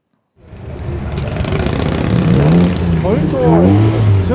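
A turbocharged tuned muscle car at the Penrith Cars Under the Stars meet in Penrith starts up from silence into a loud, close, sustained rev that rises and holds, with voices faintly audible near the end.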